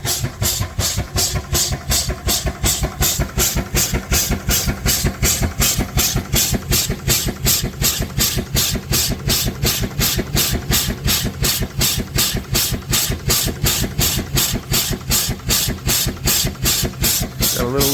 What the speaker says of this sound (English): It's the first time this engine's done any work in a long time.